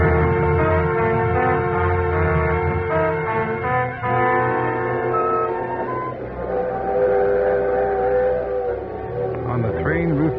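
A steady train rumble with clattering and humming tones, continuous and fairly loud, as if heard from inside a moving carriage.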